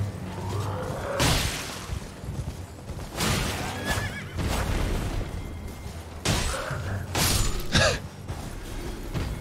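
A horse in the video game Elden Ring neighs and whinnies several times over game action, with bursts of hoof clatter and impacts amid a busy, dense background.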